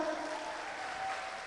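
Audience applause at a live children's competition, a steady dense wash of clapping from a crowd, sustained and even throughout.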